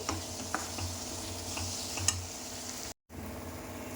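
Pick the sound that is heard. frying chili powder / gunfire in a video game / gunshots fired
frying chili powder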